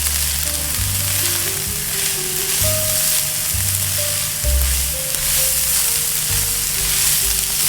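Beef burrito filling frying in a pan with chili seeds stirred in, a loud, continuous close sizzle with occasional stirring, while tonal music plays underneath.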